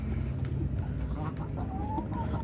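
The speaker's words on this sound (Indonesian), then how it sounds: "Ayam Birman." Birman chickens cluck and call close by in a farm setting, a few short squawks over a steady low background hum.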